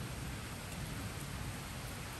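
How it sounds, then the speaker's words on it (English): Steady heavy rain with gusting wind during a severe summer thunderstorm in southwest Virginia, a dense continuous hiss with low rumbling underneath, close and loud throughout with no voices. "The wind is picking up, so is the rain."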